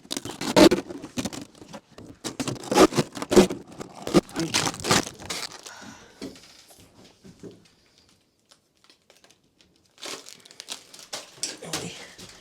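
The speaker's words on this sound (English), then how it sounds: "Thought it'd be good to get this plastic off." Plastic sheeting being pulled off a ceiling in a 1975 Viscount caravan, with bursts of loud crinkling and rustling, a quiet pause in the middle, then more crackling toward the end.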